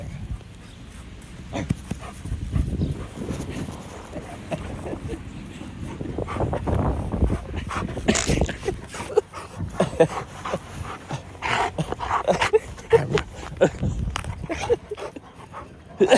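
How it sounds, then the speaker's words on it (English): A friendly stray dog in Turkey moves around close by, with panting, snuffling and soft whimpers mixed with handling and rustling noises, while people talk at times. "This is a very friendly Turkish dog."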